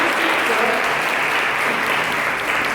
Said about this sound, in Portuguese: Dê uma salva de palmas para Jesus aí